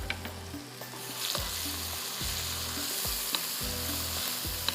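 A mixture of crumbled roti with green garlic is sautéed in a pan for bajra laddu, a steady close sizzle broken by repeated scraping stirs of a spatula, with no voices.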